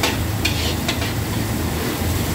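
Garlic and onion fry in a pan until browned, a loud, dense sizzle running steadily throughout with a low rumble beneath and a couple of faint clicks.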